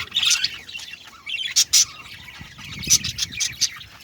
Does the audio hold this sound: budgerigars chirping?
yes